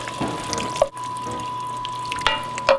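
Dry white wine poured into a hot pot, a close liquid sizzle and splash with a few sharp clinks over about three seconds.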